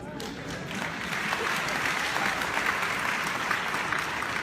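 A university convocation crowd applauds steadily during a speech, dense clapping filling the room throughout without a break.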